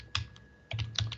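Quick taps on a computer keyboard, about three short clusters of keystrokes with brief pauses between them, close and clear with nothing else over them.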